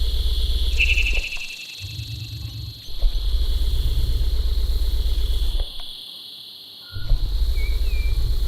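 Video game cicadas drone in a loud, steady high buzz layered over a low rumbling hum, cutting out briefly twice before resuming.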